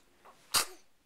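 A baby lets out one short, sharp sneeze up close, with a faint breath before it and nothing else around it.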